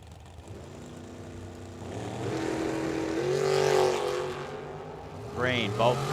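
Two drag racers, a Vega and a dragster, launch from the line at the green light, their engine roar swelling and rising in pitch, with a track announcer talking over the noise.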